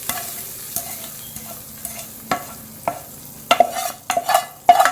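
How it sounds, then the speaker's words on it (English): Hot tadka tempering poured into coconut chutney and mixed, with sparse utensil taps at first, then a denser burst of clinks and scraping toward the end, fairly close and clear; no talking. "So let's add our tadka to this chutney."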